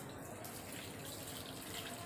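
Tap water runs steadily into a sink for handwashing, a continuous close splashing hiss that fills the short stretch with no talk.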